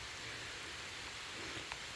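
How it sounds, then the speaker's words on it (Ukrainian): Heavy rain pours steadily over a country garden, a dense, even hiss close by with faint drop patter and no voices. "Ох, який пішов дощ."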